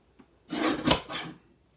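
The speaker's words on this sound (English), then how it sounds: "We're going to trim off a little bit of that white, maybe a little bit more than that." A paper trimmer slides through card stock in a single short, soft scraping stroke lasting under a second, close by in a quiet room.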